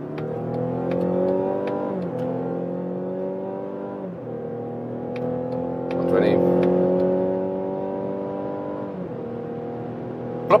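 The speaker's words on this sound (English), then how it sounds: "we do an acceleration from 50 kilometers an hour with both drivetrains" A Mazda CX-60 plug-in hybrid SUV accelerating from 50 km/h, its engine note climbing steadily through several gear changes with small dips between them, heard from inside the cabin, with a brief voice partway through.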